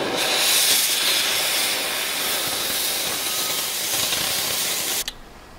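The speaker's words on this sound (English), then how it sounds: "Drew out my template onto some 3/4 inch steel, and now I'm gonna cut it all out." Cutting 3/4 inch steel plate during a cracked heavy haul trailer repair gives a loud, steady, roaring hiss that holds for about five seconds, then cuts off abruptly.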